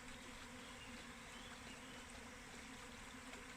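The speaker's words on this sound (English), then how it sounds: "maybe another hive somewhere has swarmed and they're coming here" A swarm of honey bees gives a steady, dense buzzing drone that holds evenly for several seconds, moderately loud and continuous with no talking.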